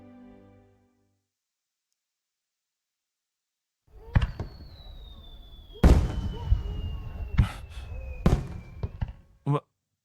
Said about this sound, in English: 花火が始まったんだね。